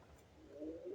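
A pigeon, a flying breed whose wings are growing in, gives a soft, low coo, faint and close, swelling near the end of a brief quiet moment.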